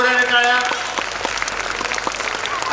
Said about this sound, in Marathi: आपल्या आईसाठी जोराने टाळ्या, आपल्या वडिलांसाठी जोराने टाळ्या